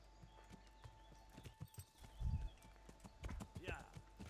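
Rhythmic hoof clip-clops of a horse in Kingdom Come: Deliverance, moderately loud, with game sounds and a voice speaking over them.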